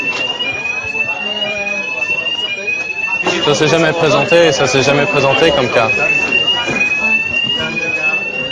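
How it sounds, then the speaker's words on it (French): An office building's fire alarm rings continuously with a loud, repeating electronic tone that intensifies partway through, while people talk over it in French. "Mais l'alarme incendie n'est pas un exercice."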